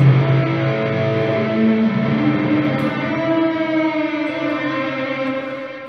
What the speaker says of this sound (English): Of course, that's buried in reverb.